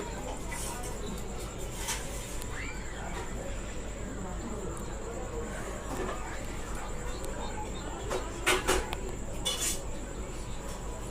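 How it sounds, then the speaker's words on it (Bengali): Someone stirs potato filling in a kadai wok, producing soft scraping and occasional metal clinks against steady background noise, with a cluster of sharper clinks near the end. "আমি এখন কড়ার মধ্যে একটু নেড়ে নিচ্ছি"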